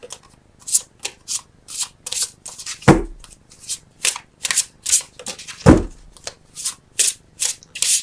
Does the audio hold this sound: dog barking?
no